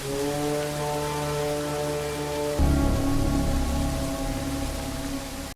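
Rain falls steadily on surfaces at night outdoors, a constant patter that runs alongside sustained tonal music, continuing throughout at moderate level with no voices.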